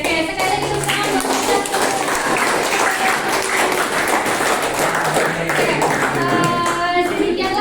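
A classroom of students in a computer accounting lesson applauds together, a dense, steady clatter of many hands clapping close by for several seconds, with faint voices mixed in.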